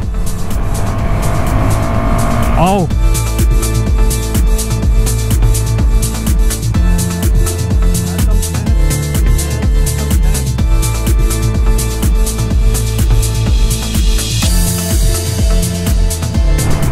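A new Husqvarna 250 motorcycle engine revs up, then runs loud and rough at close range, with rapid rhythmic vibration; a voice calls out briefly.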